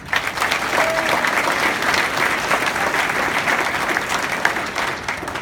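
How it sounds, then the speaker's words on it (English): Audience claps for a volunteer at a school parents' concert, a full, steady round of applause filling the room and holding throughout without voices on top. "So a round of applause for Sandy."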